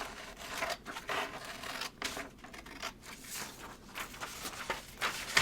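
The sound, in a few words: scissors cutting out a paper cover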